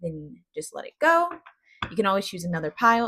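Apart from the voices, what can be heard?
No distinct noise like a dog, phone or traffic.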